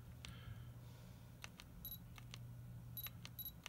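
A camera shutter button half-pressed, giving short high electronic focus-confirmation beeps, heard twice along with small mechanical clicks in a quiet room.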